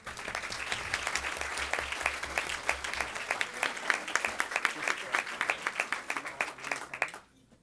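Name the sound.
audience applause at board meeting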